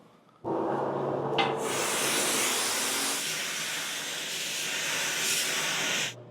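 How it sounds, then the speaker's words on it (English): Vinyl sealer sprayed onto a small wood sample, a steady close hiss of spray that starts abruptly, holds for about five and a half seconds with a brief burst near the start, then cuts off, with a fan running. "I'm just going to throw a little bit of vinyl sealer on this first."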